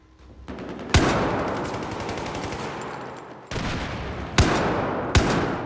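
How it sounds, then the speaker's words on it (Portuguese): A powerful gun fires several loud, sharp blasts, each followed by a long, noisy roaring wash, with the shots spread unevenly across a few seconds. "Arma poderosa, rapaz."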